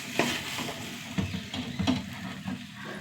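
Okra sautéing in a pan, stirred with a utensil: a soft continuous sizzle with scattered scraping knocks and clinks against the pan, moderately close, no talk.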